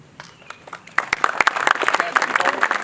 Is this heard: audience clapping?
yes